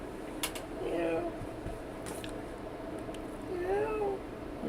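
A pet cat gives a couple of soft, faint meows against a quiet room background.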